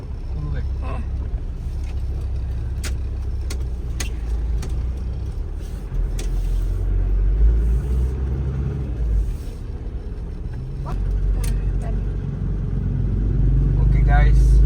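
A Toyota Land Cruiser VX80 engine runs on a test drive, a low rumbling drone that swells and falls with clicks and knocks from the cabin, while people talk over it.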